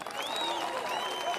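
Steady applause from a crowd at an outdoor political campaign rally in Kenya, dense and continuous clapping with a voice heard over it.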